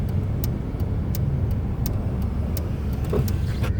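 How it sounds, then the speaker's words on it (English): Cars drive through a road tunnel, a steady enclosed traffic rumble with sharp ticking clicks scattered throughout, heard alone without talk. "I like the sound of that, of like cars driving through and such."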